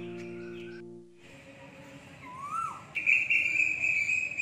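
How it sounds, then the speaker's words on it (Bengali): An Asian koel calls from a guava or mango tree at dawn, a single rising and falling whistled note at moderate distance, followed by other faint bird chirps. "সুন্দর মিষ্টি কোকিলের আওয়াজ"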